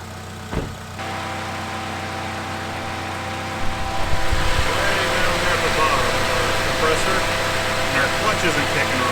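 A 2006 Mitsubishi Eclipse idles steadily with its air conditioning running on max, a constant low engine hum and fan whoosh, with a brief knock near the start and the blower swelling slightly partway through.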